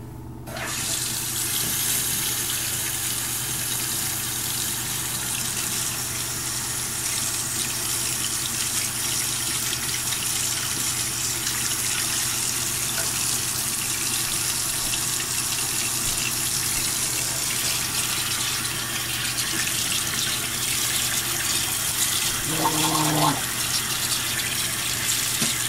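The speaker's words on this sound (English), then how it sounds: "I'm gonna go ahead and wash my teeth out and my mouth out" A bathroom tap runs steadily into a sink while someone rinses their mouth after brushing their teeth, a constant close gush of water, with a brief bubbling, gargling sound near the end.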